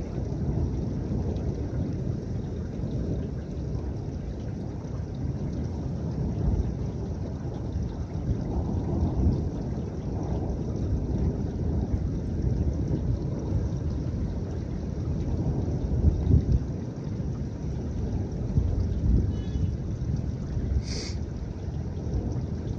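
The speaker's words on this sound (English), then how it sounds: "electrical storm right here." Severe thunderstorm over a house in the mid-Atlantic, a steady broadband roar of wind and rain with low rumbling thunder rolling throughout, loud and continuous, with no voices.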